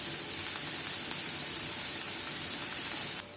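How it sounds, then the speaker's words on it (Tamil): Two large chopped onions with a little salt sautéing in a pan for paneer masala, a steady close sizzle and hiss that holds evenly throughout and drops slightly at the end. "இப்போது வெங்காயம் நல்லா வதங்கிடுச்சு."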